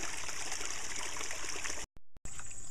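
Water runs along a mountain hillside in a steady close rush and trickle, continuous and moderately loud, cut by a brief dropout near the end.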